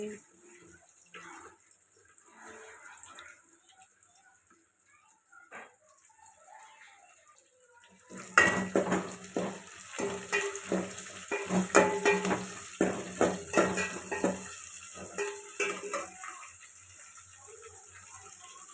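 Chopped onions dropped into hot oil for sambar, a soft watery clatter giving way to loud, busy sizzling and crackling that pops in irregular bursts after a quiet start with faint kitchen sounds.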